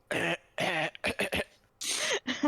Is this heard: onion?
no